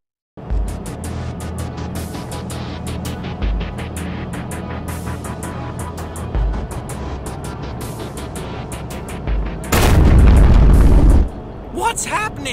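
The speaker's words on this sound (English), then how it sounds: "The explosion disables the force field generator." A loud, sustained rumbling explosion erupts from the Space Quest 3 3D fan-made adventure game, rising into a dense roar near the end, layered over continuous game music and effects with a spoken narration voice.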